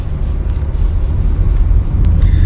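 Cabin rumble from the passenger seat of a moving car, a steady low road and engine drone with light wind noise, loud and continuous, no talk.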